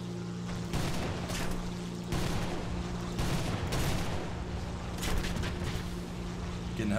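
Heavy MK-103 cannon bursts from a He 219 night fighter in War Thunder, with repeated loud booming volleys over a constant engine drone.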